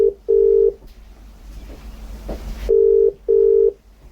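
Two pairs of short electronic ring tones from a telephone line while on hold, separated by a quiet pause with faint background noise.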